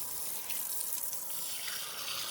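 Hot water pours steadily from a tap at a remote mountain spot, a continuous broadband gush with a hiss of sputtering air mixed in, close and alone with no voices.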